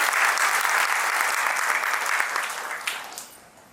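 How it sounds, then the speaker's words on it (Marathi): An audience claps at a book launch ceremony, a dense burst of applause that holds steady and then tapers away over a few seconds. "पहिल्यांदा मला वाटतं की पुरीकर त्यांचा पण टाळ्या वाजवून"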